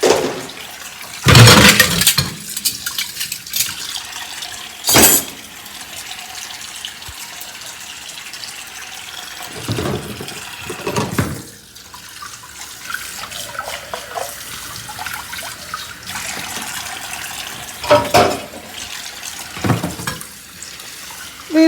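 Dishes being rinsed under a running kitchen tap, a steady hiss of water into the sink broken by splashes and knocks of crockery, close by and with no talking.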